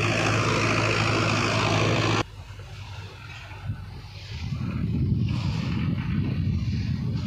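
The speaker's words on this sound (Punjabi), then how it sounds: "ਬਹੁਤ ਘੱਟ ਆਰਪੀਐਮ ਡ੍ਰੌਪ ਟਰੈਕਟਰ ਕਰ ਰਿਹਾ ਹੈਗਾ" A Farmtrac 6055 tractor pulling a Gurbaz 8-foot super seeder in a field, its engine giving a loud steady drone that drops suddenly after a couple of seconds, then a rougher, rumbling labour builds and holds.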